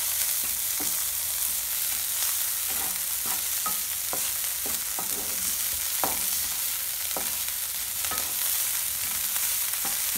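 Mushroom, spinach and breadcrumbs cooking in a pan: a steady soft sizzle runs throughout, with repeated scraping clicks as a utensil stirs and pushes the mixture around the pan, fairly quiet, no voices.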